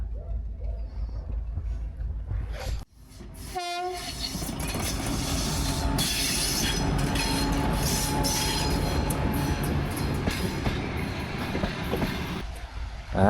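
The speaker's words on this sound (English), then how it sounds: "And here we have another train going in the direction where I just came from." A train on the Circum-Baikal railway near Lake Baikal sounds its horn and then rumbles past close by, a sustained loud roar with wheel clatter and squeal lasting through the rest.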